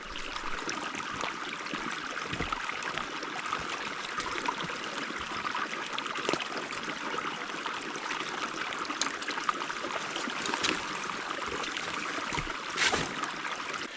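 A mountain stream running through wildflower-covered high country gives a constant broadband rush and babble of flowing water, steady and fairly close for the whole stretch, with a few sharper splashes here and there.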